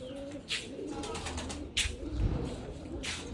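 Pigeons on a concrete rooftop loft coo softly with a few brief bursts of wing flaps as birds take off, close and moderately quiet.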